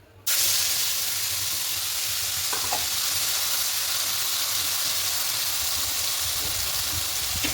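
Spice paste hits hot oil in a pan while mustard fish curry cooks, bursting into a loud, steady sizzle and hiss that carries on unbroken, with faint stirring scrapes partway through.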